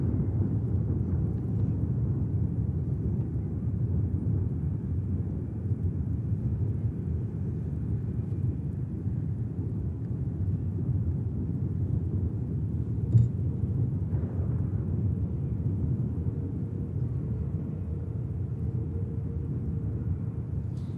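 A Boeing 787 Dreamliner taxis at Manchester Airport, giving a continuous low, distant engine rumble that holds steady throughout with no voices.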